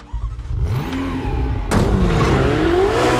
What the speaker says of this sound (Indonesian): Dia masuk ke mobil dan menyalakan mesinnya.